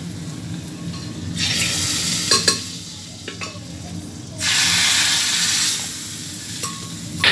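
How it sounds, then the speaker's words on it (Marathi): Sizzling tempering of turmeric and coriander poured into cooked dal, a loud hissing burst that swells and fades twice amid clinks of a spoon against the pot, with no talking. "आता आपण डाळीमध्ये टाकून घ्यायची फोडणी"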